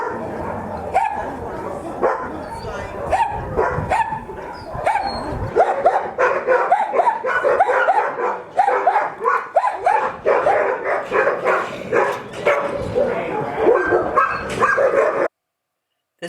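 A crowd of dogs at an Istanbul dog shelter barks and yips constantly in overlapping bursts, close and loud, with faint voices beneath. The sound cuts out abruptly near the end.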